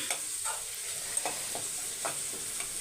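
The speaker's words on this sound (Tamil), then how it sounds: "வெங்காயம் வதங்கட்டும்." Onions softening in a pan for chicken 65 biryani, a soft continuous sizzle broken by a few light spoon scrapes and stirring taps.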